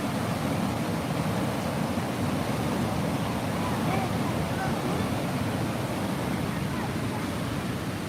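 Strongly flowing water at Krasiao Dam in Suphan Buri, Thailand, gives a continuous broad roar, loud and steady, with a faint voice underneath.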